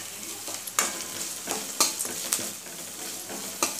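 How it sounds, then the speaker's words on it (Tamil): Onions and green chillies sauté in a pan for tomato sevai, with a steady, close sizzle broken by repeated scraping stirs and a few sharp clinks of a spatula on the pan, and no voices. "வெங்காயம் நல்லா வதங்கணும்"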